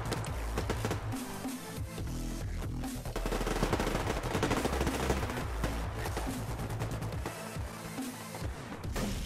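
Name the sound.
gunfire in the video game Survarium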